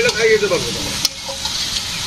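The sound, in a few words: fish frying in a pan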